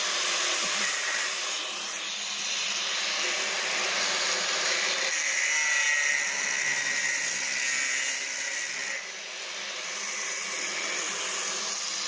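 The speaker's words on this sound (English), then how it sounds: "Cut it with the grinder." An angle grinder cuts into the steel loader bucket of a Kubota B7100 tractor, a steady high-pitched whine that holds at a constant level for the whole stretch, dipping slightly near the end.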